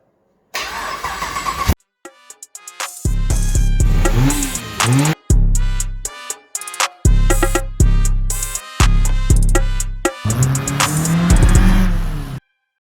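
A truck's LS2 or L77 V8 engine with a Turbo 400 transmission cranks via starter wire, catches and roars, then revs hard in several bursts separated by brief silences, loud and near.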